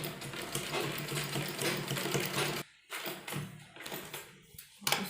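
A sewing machine stitches lace onto a salwar suit made from a saree, running in a fast, steady mechanical whir. It stops short, then restarts in brief bursts, close and loud.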